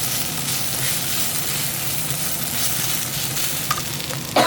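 Onions sizzling in oil in a pan for a bitter gourd fry curry, a loud, steady frying hiss with soft scraping from stirring and a couple of sharper clinks near the end.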